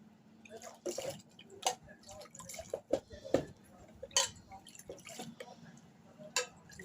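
Water is sprinkled over rokak pastry sheets, giving irregular close drips and small splashes with light clatter of dishes between them.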